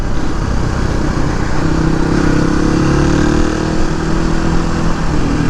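A Suzuki DR250S fitted with a Dominator R exhaust runs loud and close, its engine droning and revving steadily for several seconds with a rough, continuous note and wind-like rush.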